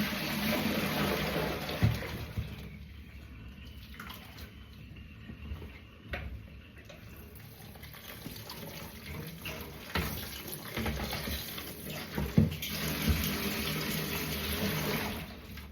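Water drains and runs in a kitchen sink, a steady close gurgling and splashing flow with occasional knocks and clunks, lasting throughout with no talking.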